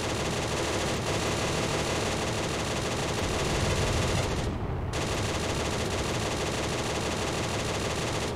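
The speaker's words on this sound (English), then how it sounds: "Let's machine gun him." Continuous machine gun fire from a T-50 tank in the tank game Steel Fury, a loud, dense, unbroken stream of rapid shots with a brief gap near the end before the firing resumes.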